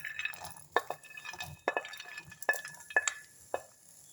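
Almonds roasting lightly in a pan over a low flame, with soft scattered clinks and ticks of nuts being stirred against the metal, quiet and close with no talking.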